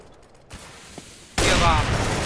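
Quiet clicks give way to a sudden loud burst of gunfire in CS:GO, shooting through a box on Dust II, sustained and close for the last second.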